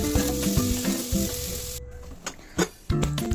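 Tomatoes sizzling in a pan with coconut, garlic and ginger, a steady hot frying hiss broken by stirring clatter and a couple of loud knocks near the end.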